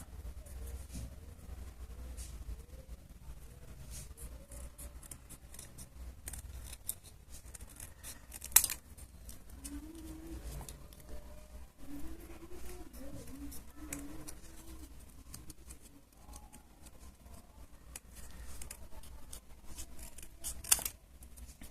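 Scissors cut through folded paper to shape a paper ring, producing repeated close snips and rustles with a couple of sharper clicks spread over a fairly quiet stretch.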